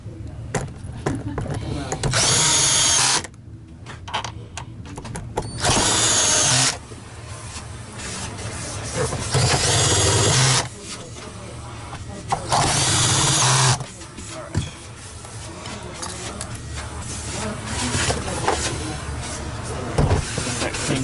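A power drill on a torque setting drives screws into the plastic housing of a SEBO X5 vacuum cleaner, in several short whirring bursts separated by pauses, close by, with a person talking between runs.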